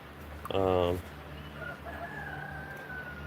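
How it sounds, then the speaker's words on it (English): A single rooster crows once, loud and fairly close. The crow is followed by a quiet outdoor background with faint, drawn-out tonal sounds. "There's roosters now."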